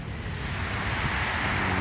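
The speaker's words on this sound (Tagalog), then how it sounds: "banayag pa rin yung alon niya, di ba?" Gentle sea waves along the shore at Manila Bay, a steady broad wash of surf mixed with wind rumbling against the microphone, continuous and fairly quiet with no speech.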